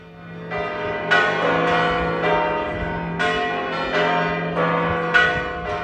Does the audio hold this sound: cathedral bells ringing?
yes